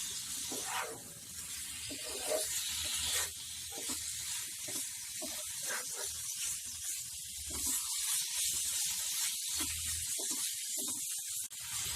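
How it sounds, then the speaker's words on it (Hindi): Mutton keema browning in a pan over a high flame, a steady broad hiss and sizzle running throughout with occasional louder spits and scraping stirs, no talking. "फ्लेम को हाई पे रख के अभी से अच्छे से भून लेते हैं"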